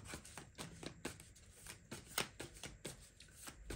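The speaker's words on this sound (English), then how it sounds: "One more shuffle." Tarot cards being shuffled by hand, a quick run of soft riffling flicks and slaps in an irregular rhythm, close and fairly quiet with no talk over it.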